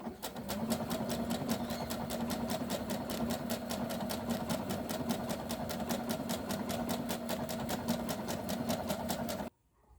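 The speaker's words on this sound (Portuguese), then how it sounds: "com o meu ponto 27 selecionado, tá? Eu vou dar início aqui à minha costura." A sewing machine runs steadily for about nine seconds, stitching a decorative pattern with a wing needle on a vintage-style bib, its fast, even needle rhythm loud and close before stopping abruptly.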